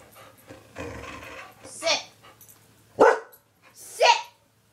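Dog barking in Minecraft, three short sharp barks spaced about a second apart, heard clearly at close range after a stretch of soft background noise.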